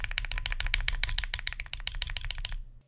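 Right shift key on a Salvation tray-case keyboard hammered as hard as possible, giving a fast run of about twenty sharp, loud clacks over two and a half seconds before stopping abruptly.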